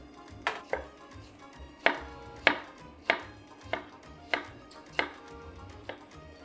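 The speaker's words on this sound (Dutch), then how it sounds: "En hier ga ik nu plakjes van snijden." A knife slices cooked carrots on a cutting board in about nine crisp, evenly spaced strokes, each a sharp close tap against the board.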